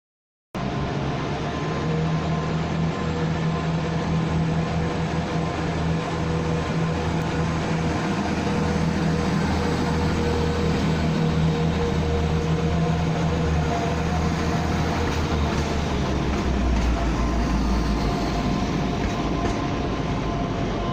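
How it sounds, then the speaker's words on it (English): A Class 175 train in Transport for Wales livery pulls out of Manchester Piccadilly, its diesel engine droning steadily nearby with rumbling wheels over the rails, growing slightly heavier toward the end. "It's a Class 175 in the new Transport for Wales livery,"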